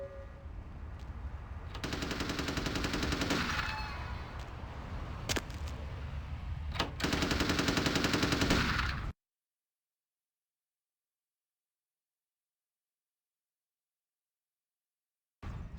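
Bursts of rapid machine gun fire ring out in Vampire The Masquerade: Bloodlines, loud and sustained for several seconds with brief gaps, cutting off abruptly into silence before a faint return at the very end.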